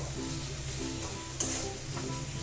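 Tomato masala with salt sautéing in a pan for an egg curry, a soft steady sizzle with a sharp utensil clink partway through and light stirring, close by with no voices.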